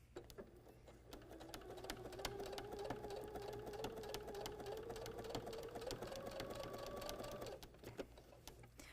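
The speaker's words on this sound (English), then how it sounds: "Now I've switched my machine back to a 1/4 inch seam, and I'm just going to slowly work right around the edges of my pot holder." A sewing machine runs steadily at a 1/4 inch seam, stitching binding around the edges of a quilted pot holder. Its close, even motor hum and rapid needle clicks carry for several seconds before stopping.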